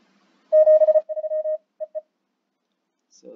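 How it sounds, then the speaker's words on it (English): Pure Morse code CW tones key out 73 followed by a single short dit, a clean steady beep in long and short pulses, quiet and isolated. "So that just sends a 73 and then a dit at the end."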